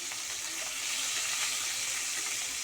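Fish heads coated in salt and turmeric fry in mustard oil, producing a dense, continuous sizzle that holds steady and fairly close throughout.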